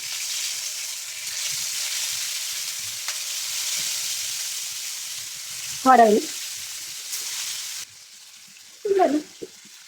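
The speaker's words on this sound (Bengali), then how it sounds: "এখানে তেলটা গরম হচ্ছে মাছটা দিয়ে দিচ্ছি" Fish frying in hot oil, a close, steady sizzle running throughout with two brief louder bursts of spattering.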